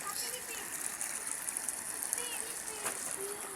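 Floodwater rushes and gurgles steadily, soft and somewhat distant, with a continuous hiss of moving water.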